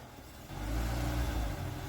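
A Jeep engine rumbles low and close as it creeps slowly up onto a ramp, the deep drone swelling partway through and holding steady, with no voices over it.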